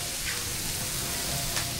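Taki fish frying in a pan with onion, a steady broadband sizzle and crackle with faint pops, continuous and fairly close, no voices over it.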